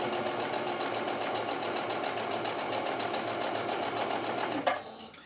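A sewing machine stitches a quilt seam with a steady, fast mechanical chatter running close and loud for several seconds, then stopping abruptly near the end.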